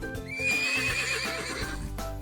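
A black horse gives a loud, close, rising and falling whinny lasting about a second, with hooves clip-clopping in a steady beat beneath it.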